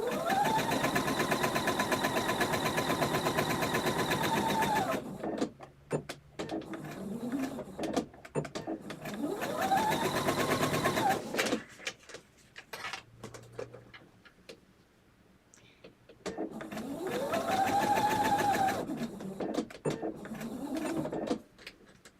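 A home sewing machine chain piecing fabric pieces, running in long rapid stitching bursts of several seconds with a whirring motor pitch that rises and falls, separated by quieter pauses with small handling clicks and rustles.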